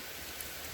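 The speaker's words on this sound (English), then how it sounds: "That's raining harder." Steady rain pouring down during a thunderstorm on a hiking trail in a park, a dense continuous hiss, fairly faint and uniform with no voices.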